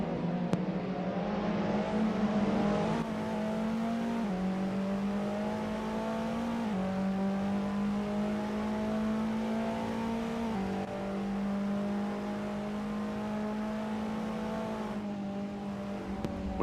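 TCR race cars at Cadwell Park in a racing video game, an engine droning steadily with repeated gear shifts stepping the pitch up and down, heard alone without voices.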